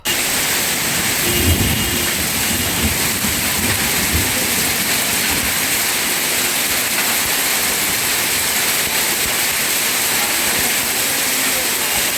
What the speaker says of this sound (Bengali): আর দেখুন কি জোরে শিলাবৃষ্টি শুরু হয়ে গেল